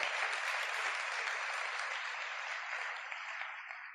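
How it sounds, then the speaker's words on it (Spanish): Loud applause from a church congregation for Jesus Christ during a sermon, a thick unbroken wash of clapping that fades slightly toward the end with no talk over it. "¿Cuánto le pueden dar un fuerte aplauso al Señor Jesucristo?"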